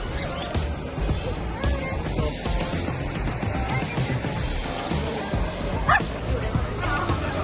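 Dogs yip and bark amid a crowd gathered in a busy Kyoto street in Japan, with steady chatter and voices around throughout.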